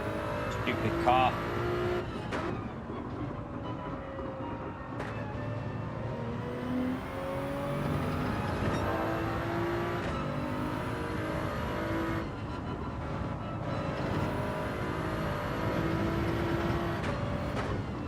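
A race car laps a circuit in Gran Turismo 7 on hard tyres, its engine rising and falling through repeated gear changes with brief tyre squeals, while someone speaks quietly over it at intervals.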